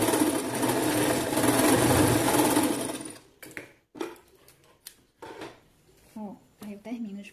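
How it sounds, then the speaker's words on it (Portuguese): A domestic sewing machine runs a zigzag stitch to attach elastic on a semi-cropped top, a steady whirring burr for about three seconds, then stops while someone talks. "Eu vou fazer uma costura aqui, tá? Ó, pra ele pregar o elástico. Nesse caso, eu vou colocar no ponto zigue-zague."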